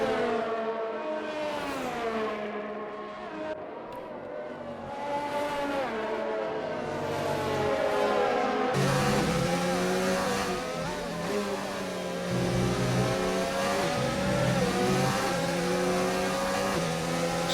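Formula 1 race cars of the F1 2019 video game, Williams, McLaren and Force India battling at the Belgium round, engines whining and rising in pitch through gear shifts, several cars close together and loud throughout.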